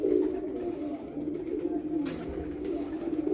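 Breeder pigeons on a rooftop give soft, continuous cooing at close range, steady and low with no talk.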